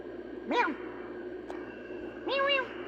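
A cat gives two drawn-out meows about two seconds apart, moderately close, with a faint click between them and steady background hum.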